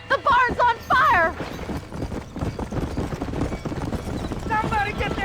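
Horses trapped in a burning barn in Red Dead Redemption: shrill whinnies at the start and again near the end over a dense rumbling, hoof-heavy commotion, loud and close.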